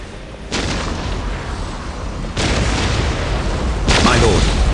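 Orc artillery firing in the Dawn of War real-time strategy game: three heavy booming blasts a couple of seconds apart, each leaving a loud sustained rumble that builds in intensity, close and dominant.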